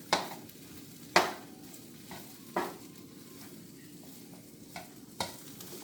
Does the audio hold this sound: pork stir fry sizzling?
yes